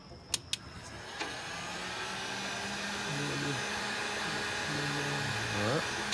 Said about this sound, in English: It's like a super hair dryer.